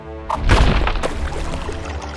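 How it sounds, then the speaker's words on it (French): Water gushing from a struck rock in a children's Bible story sound effect: a sudden loud rushing pour bursts in and keeps sloshing and splashing steadily, close and full, with no voices over it. "L'eau jaillit en abondance et tous burent."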